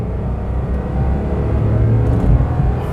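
A car accelerates hard in second gear toward its top speed, a loud, continuous engine drone and road rumble building slightly over a few seconds with no voices.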